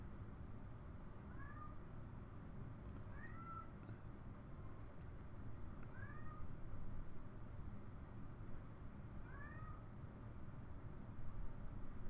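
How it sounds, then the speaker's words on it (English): Casper the cat meows repeatedly, four drawn-out rising calls spaced a couple of seconds apart, faint and somewhat distant over a steady low background hum. "Casper's gonna keep meowing."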